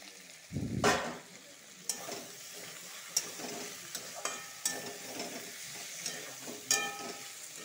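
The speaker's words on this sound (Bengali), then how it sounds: "আর সর্ষার পেস্ট আর মরিচের পেস্ট এটা ঢেলে দিব" Mustard and chili paste hits a hot pan for a vegetable chorchori with a thump and burst of sizzling, followed by a steady fry punctuated by sharp scraping clicks of stirring, close and without speech.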